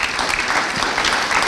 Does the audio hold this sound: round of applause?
yes